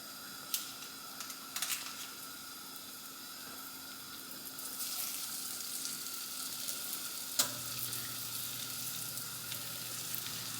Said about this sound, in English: we're just going to sear both sides for about 1 minute to 2 minutes aside